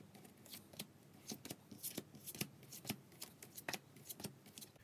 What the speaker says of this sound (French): vous regroupez les cartes en un seul paquet et vous les étalez comme ceci, face contre table